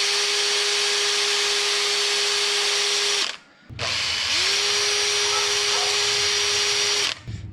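A power drill spins a bronze wire wheel against a Toyota FJ40 brake caliper piston. The loud, steady whirring grind runs in two long bursts with a brief pause between them.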